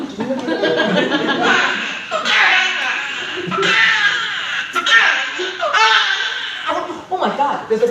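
A performer's voice imitates a crying baby in a run of wailing, sobbing bursts that break into laughing, chortling sounds. It is loud, close and continuous, with no other speech.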